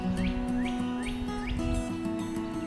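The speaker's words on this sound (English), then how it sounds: "The birds are very happy today." Small backyard birds chirp in short repeated rising tweets at moderate distance beside a patio, over a steady low mechanical drone that may come from a neighbour's lawn mower.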